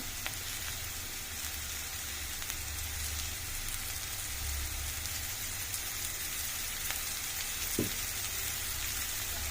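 Sliced bitter gourd fries in oil in a pan, giving a steady, close sizzle that holds evenly throughout, with one brief utensil knock near the end and no talk.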